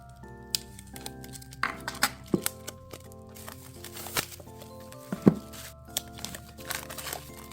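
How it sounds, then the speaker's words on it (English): Plastic shrink wrap is peeled and torn off a Korean or Japanese manga volume, close-up crinkling and crackling in irregular bursts with sharper rips and snaps, steady and unaccompanied by speech. "So usually these Korean and Japanese volumes have plastic wrapping, so I will have to take that off."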